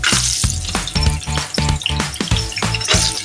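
Cashews and raisins frying in hot oil for a Kozhikodan biryani, with a dense, close, crackling sizzle and rapid bubbling, and occasional stirring clinks throughout.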